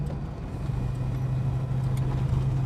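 A worn, tired engine in a Holden HK car drones steadily as it cruises through town, a constant close low hum with no talking.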